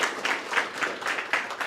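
Applause from a church service audience, a steady wash of many hands clapping at moderate level with no talk over it.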